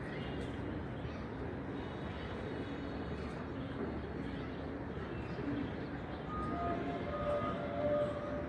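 Pigeons cooing, old and new birds in a pigeon loft: soft, low coos under a steady ambient rumble, fairly faint and distant.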